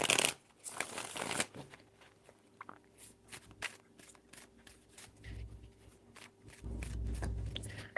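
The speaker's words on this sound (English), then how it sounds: "3 shuffles." Tarot cards are shuffled by hand in quiet, irregular bursts of riffling and snapping, with a louder rustle at the start and soft handling noises between.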